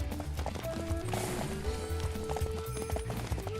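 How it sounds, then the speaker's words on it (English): A called horse arrives in a video game with steady clip-clop hoofbeats under a layer of game music and ambient sound. "call that horse"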